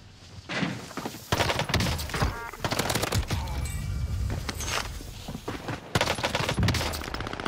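An SMG, a short-barrel Welgun, fires in a video game, rapid bursts of close, loud automatic shots in repeated strings with brief gaps between them, the rattling continuing throughout.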